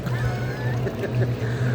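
A motorised boat engine in Doha drones with a steady low hum close by, with faint water movement and some indistinct voices around it.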